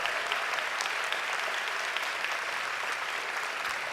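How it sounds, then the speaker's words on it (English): Steady, dense applause from a commencement ceremony audience fills the whole stretch, a continuous wash of many hands clapping at even loudness with no pauses. "So I want to applaud you"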